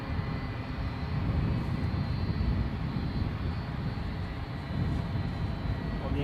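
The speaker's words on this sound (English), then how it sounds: "United 757 is finally taxiing to its gate." A United Boeing 757 taxis at Edinburgh airport, its jet engines producing a steady, loud, continuous roar with a faint high whine, heard up close without pause.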